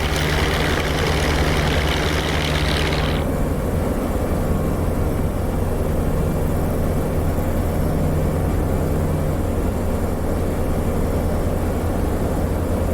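A P-47D fighter's radial engine roaring at full power on its takeoff run in the flight simulator DCS World, a loud, steady, droning rumble that holds unbroken throughout, with a faint higher hiss dropping away early.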